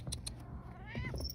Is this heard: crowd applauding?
no